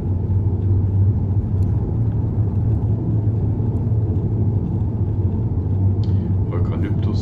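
A car drives in the Outside Simulator video game with a steady, loud low engine and road rumble that runs unbroken throughout, with a few faint clicks near the end.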